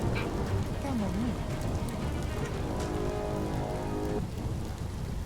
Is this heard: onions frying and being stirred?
no